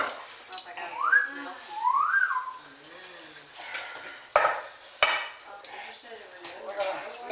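Carnitas meat being mixed as rendered fat is worked back in, with clinks of a spoon or utensil against a pot in scattered bursts. A person talks over the stirring.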